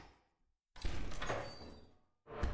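A door in the Lethal Company video game opens in a quick mechanical rush, a sliding, thudding burst after a short silence, followed by another brief surge as it continues moving, with no talk.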